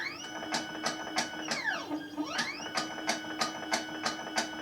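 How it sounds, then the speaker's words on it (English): An inkjet-style home printer runs through a repeating cycle of sharp mechanical clicks and whirring carriage sweeps, with rising and falling motor tones in the middle, fairly close and steady with no talking. "That's my printer. It loves to do that in the middle of really important things"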